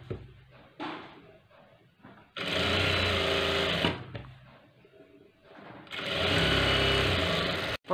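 A sewing machine stitches a cross-cut blouse, running in two loud bursts of about a second and a half each. Quieter pauses with light handling noises separate the bursts.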